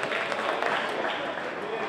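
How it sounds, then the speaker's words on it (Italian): Audience applause at a Nero Norcia 2017 event with drummers, a steady wash of clapping from a crowd that holds evenly for about two seconds. "Facciamo un applauso"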